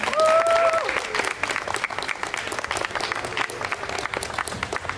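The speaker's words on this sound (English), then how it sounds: "Ladies and gentlemen, a big round of applause for Mr." Wedding guests applaud the newly pronounced couple at a solemnization ceremony, a steady round of clapping from a modest crowd while a voice speaks over the start.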